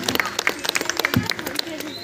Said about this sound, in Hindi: जोरदार तालियों के साथ हमारे बच्चों का उत्साह वर्धन करें।